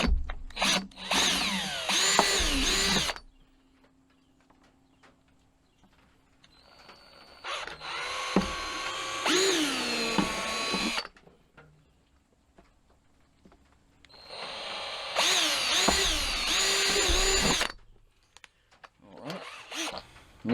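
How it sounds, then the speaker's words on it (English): Three bursts of a power drill pre-drilling holes in wood, each a few seconds long, separated by quiet pauses with faint handling noises. "pre-drill these"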